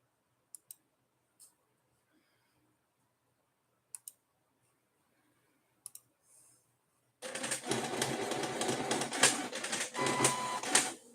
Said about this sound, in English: I gotta warm it up. That's the problem with the printer.